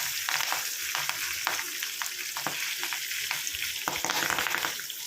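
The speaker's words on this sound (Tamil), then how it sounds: "நீங்கள் ஆயிலில் இதை வந்து போடும் பொழுது சட சடச்சடன்னு ரொம்ப சவுண்டு வரும் தெரிக்கும்" A handful of leaves dropped into hot oil over low flame while making a homemade Kerala-style hair dye oil: dense, continuous crackling and sizzling with sharp spitting pops throughout, close and fairly loud.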